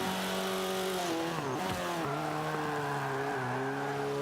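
A car engine in the Forza 5 racing game climbs uphill in a high gear with a changed engine and aspiration, holding a steady loud drone whose pitch dips and recovers through shifts, with no voices over it.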